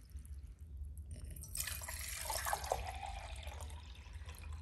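Water is poured into beakers, 500 milliliters each, as a steady close trickling and splashing stream rises after a quiet start and continues to the end over low background hum.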